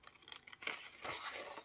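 Scissors snipping and paper rustling while magazine images are cut out for a collage, short crisp cuts and crinkles heard close and quiet.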